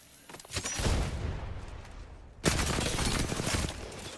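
Rapid automatic gunfire in a ranked shooter match, two loud close bursts of sustained fire separated by a brief lull.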